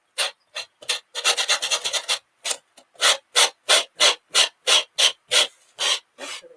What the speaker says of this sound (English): So instead of pulling this, just sand it up